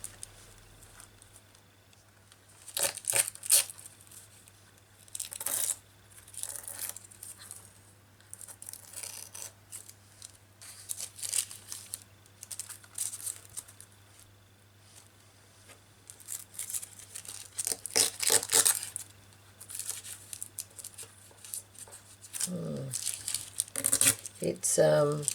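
Thin, tissue-like tracing paper is handled and crinkled in soft, irregular bursts of rustling, close by against a faint steady hum.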